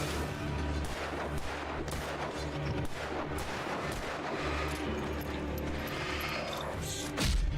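Gunfire in the video game Alan Wake Remastered, a dense, loud barrage of booming shots and rumbling impacts filling the whole stretch, with no talk over it.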